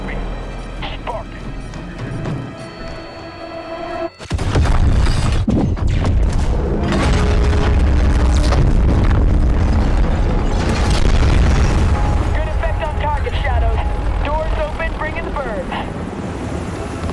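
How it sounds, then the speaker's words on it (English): Call of Duty: Modern Warfare gameplay in a stadium. After quiet radio chatter, a heavy boom sets off a long roaring rumble of blasts and crackling bursts that stays loud and dense to the end. "How about some fireworks? Wait till you hear this. Fuse is lit."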